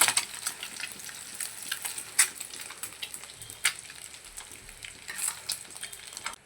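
Eggs fry gently in hot oil in a pan, a close, continuous sizzle with irregular spits and crackles rising and falling over several seconds, with no talking.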